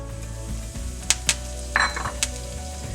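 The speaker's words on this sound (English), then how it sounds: "add again around 1 teaspoon of oil, few mustard seeds and curry leaves" Mustard seeds and curry leaves sizzle in a teaspoon of oil in a pan, a steady close fry broken by a few sharp clinks and pops, with no voices.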